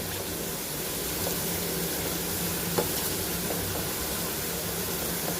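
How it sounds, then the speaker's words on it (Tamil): Sliced onions frying in a pan until golden and crisp, giving a steady, dense sizzle with faint crackles and one small clink, continuous throughout and without any talking. "பொன் வருவலை வறுத்து எடுத்துக்கணும்"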